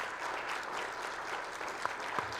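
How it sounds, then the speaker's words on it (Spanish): An audience claps at the Guadalajara International Book Fair, a steady burst of applause that sounds somewhat distant and subdued and carries on for the whole clip. "les pido un enorme aplauso"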